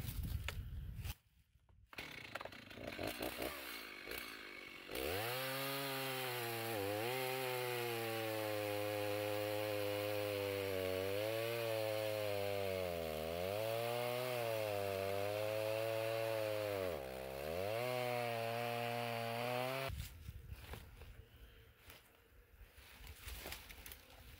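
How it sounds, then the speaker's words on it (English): A chainsaw runs at high revs for about fifteen seconds, its pitch dipping repeatedly as it bites into a fallen bee tree trunk just above the hive opening, after quieter handling noises. "I'm gonna slime up this chainsaw doing it. I'm gonna cut it just above the opening here."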